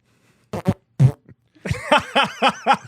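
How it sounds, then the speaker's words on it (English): Several close fart sounds ring out in quick succession, a pair of short bursts, a longer one, then a rapid string of five or six pops, loud against near silence. "that's like a real fart almost coming out"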